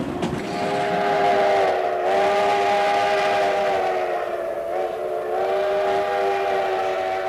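A train on the Durango to Silverton line climbs steadily in the mountains, with a loud continuous rumble and a long sustained whistle-like tone holding across the whole stretch. No one speaks.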